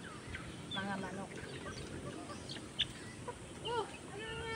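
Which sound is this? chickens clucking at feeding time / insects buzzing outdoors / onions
chickens clucking at feeding time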